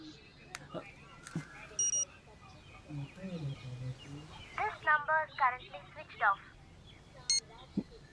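Phone call tones and electronic beeps in a dubbed Hindi horror film scene, with repeated short tonal bursts and chirps over background music, while people talk.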